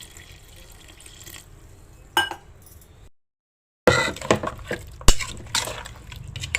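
Water splashes and trickles into a metal pot of bottle gourd pulusu in short bursts, with light clinks of the vessel, after a brief silent pause.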